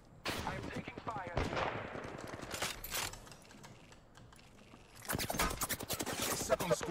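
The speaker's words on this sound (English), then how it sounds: "Second squad is firing on us." Gunfire in the Apex Legends video game, with rapid bursts of automatic fire that come and go in loud clusters, a quieter gap in the middle, then heavy sustained shooting again.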